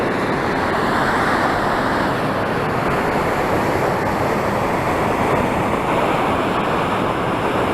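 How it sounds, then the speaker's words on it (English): A waterfall tumbles down misty, wet mountains near Loch Nevis, producing a constant broad rushing roar, loud and close, unbroken throughout with no voices. "as you can see I'm next to a waterfall."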